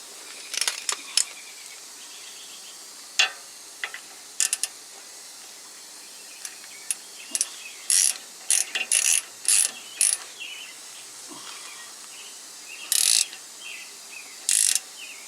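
A ratchet snugs a threaded differential fill plug into a Jeep Wrangler axle housing, giving bursts of quick metallic clicks in short, irregular groups with pauses between them, close by and alone.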